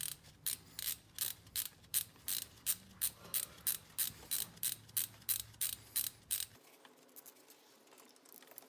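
A ratchet undoes the Torx bolts holding the ignition coils on the M274 engine of a 2018 Mercedes GLC300. Quick, evenly spaced clicks sound close up, about eighteen in a row, and then the clicking stops and a faint quiet follows.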